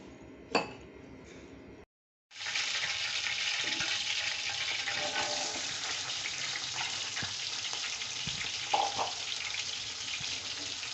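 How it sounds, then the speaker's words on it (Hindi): Onions sizzle loudly and continuously in a hot pan with whole spices for mutton yukhni pulao, a close steady hiss after a brief clink and pause, with occasional utensil taps. "अब मैं प्याज को पहले भूनूंगी"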